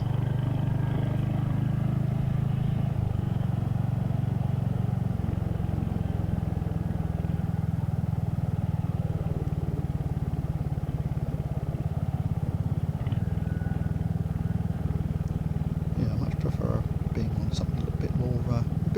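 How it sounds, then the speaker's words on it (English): Royal Enfield Hunter motorcycle on the move, a steady low engine drone with a constant pulsing hum and road noise, fairly close and continuous, with some rattles and clatter toward the end. "the Royal Enfield Hunter's got quite enough oomph for me"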